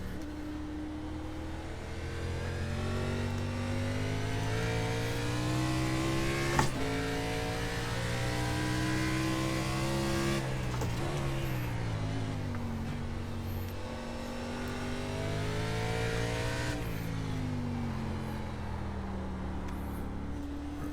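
Stock car engine lapping Barber track, a loud continuous roar rising and falling through gear changes and throttle, close up in the cockpit with no talk.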